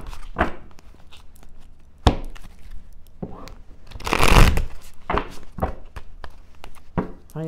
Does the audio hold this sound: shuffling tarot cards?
yes